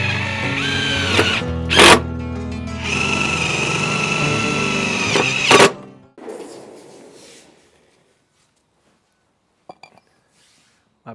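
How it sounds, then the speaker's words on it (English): A power drill drives sheet metal screws into the side of a building, whining loudly in two long runs with brief pauses, then stopping. Some quiet handling noises and a few faint clicks follow. "To mount it on the side of the building, I will just put in 4 sheet metal screws."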